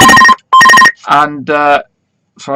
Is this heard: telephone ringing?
yes